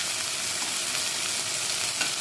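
Onion paste hits browned frying onions in a pan while cooking chicken roast, producing a loud, steady, unbroken sizzle with no talking.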